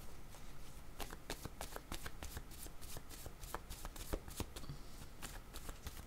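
A deck of tarot cards is shuffled and a card drawn, a close, quick run of crisp papery flicks and slaps in an uneven rhythm with no talk over it.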